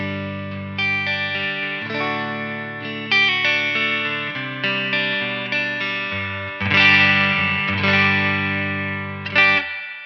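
An electric guitar plays chords and single notes through an Origin Effects Halcyon Gold with a Combo Deluxe 65 amp emulation running clean, a warm, mostly clean tone with a touch of reverb trailing each strum.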